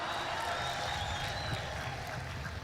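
A church congregation applauds and cheers in a steady, dense wash of clapping and voices, with high ululation threads rising through the crowd noise for a few seconds.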